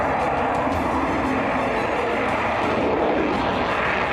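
A fifth-generation fighter jet roars loudly and continuously overhead, a dense, steady engine rush with no voices.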